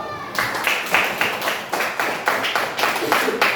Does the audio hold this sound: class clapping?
yes